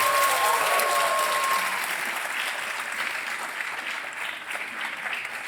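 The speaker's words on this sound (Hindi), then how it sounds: "तालियां बजती रहें इनके लिए." Studio audience applause fills a TV quiz-show set for KBC Under 25, a dense, steady clatter of many hands that starts strong and eases slightly toward the end, with no voices over it.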